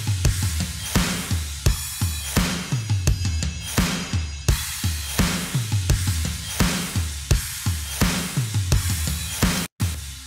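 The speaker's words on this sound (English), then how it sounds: "So the drums together sounds like this." Full drum mix built from an Addictive Drums preset, with China cymbal and ride over a steady, punchy kick and snare groove repeating in a loud, even rhythm for about ten seconds, no voices.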